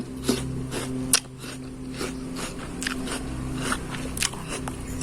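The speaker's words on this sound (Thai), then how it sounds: "หืมกรอบมาก รสสัมผัสที่แรกอะกลิ่นมันคล้าย คล้ายเหมือนกินมันแก้วแต่กรอบ" Crisp, crunchy bites into raw yacon (snow lotus root), close up, with a series of sharp snapping crunches spread through the clip and softer chewing between them.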